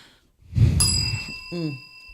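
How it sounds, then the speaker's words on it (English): A single bright bell ding rings out with a sustained metallic tone, followed by a short vocal sound as the ring fades. "Ring the bell."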